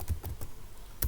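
Keys clacking on a computer keyboard while a C program is typed, about four distinct keystroke bursts spread over roughly a second, fairly close and clear with no talking.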